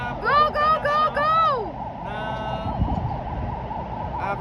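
A fire truck siren wails and yelps through traffic at a fire scene in Ortigas, Pasig, loud and close with rising and falling sweeps, then a steadier warble, as a horn or engine rumbles beneath.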